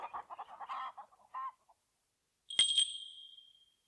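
Cartoon chickens cluck in a quick burst of clucks from a hen being chased, then a sharp squawk after a short pause, close and clear with no talk over them.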